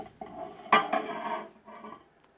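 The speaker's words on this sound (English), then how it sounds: "Get it out and stir a little bit more." A utensil scrapes and clinks against a bowl while stirring a hot homemade microwave peanut brittle mixture, with a brief clatter followed by softer scraping, close and moderately loud.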